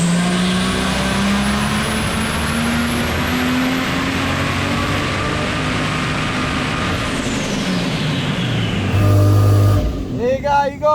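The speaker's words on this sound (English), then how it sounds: "So it's got a misfire at the moment" A misfiring engine in a 1000hp car, loud and close, with a rough, uneven drone, brief sharp bursts near the end and people talking over it.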